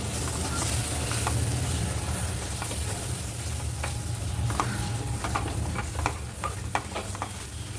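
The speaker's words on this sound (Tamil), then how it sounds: "இது எல்லாமே வந்து நல்லா வதக்கி விட்டுக்கலாம்." Garlic, pepper and ground curry masala sautéing in hot oil for a garlic pepper curry, a steady close sizzle with scattered clicks of a spoon stirring the pan and no speech.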